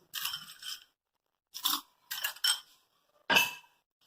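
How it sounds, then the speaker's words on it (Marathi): Crushed ice goes into a glass for a mojito, heard as four or five separate crunchy, scraping bursts, close and fairly clear, with silence between them. "क्रश्ड आईस नंतर हाफ ग्लास."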